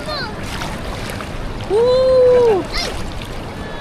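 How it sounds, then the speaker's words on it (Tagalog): Sea waves slosh and splash around a small boat off a white sand beach in Bolinao, Pangasinan, steady and close, while people shout and chatter over the water noise. "Lakas ng alon. Parang may tsunami."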